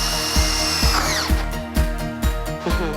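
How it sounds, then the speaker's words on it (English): A power drill bores through wooden curtain rod brackets, a loud whining motor with rhythmic pulsing as the bit bites into the wood, close up and without talk. "we're going to drill right through the center of these brackets"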